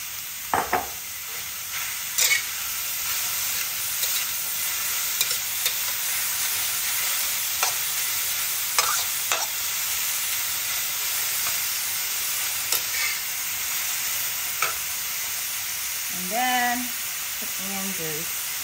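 Turnip cake ingredients frying in rice bran oil in a pan for a Chinese dish, with a steady close sizzle broken by scattered clicks of stirring and a couple of brief voices near the end.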